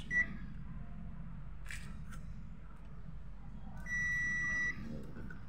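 A multimeter's continuity buzzer, checking the fuse of a Joson AV-902 integrated amplifier, lets out a short high beep, then a sustained beep of almost a second, over a steady low hum and faint clicks.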